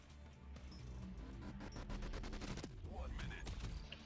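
A grenade thrown and exploding in the Blaston VR video game, heard as a quick series of sharp blasts and crackling shots, fairly faint, amid rapid game effects.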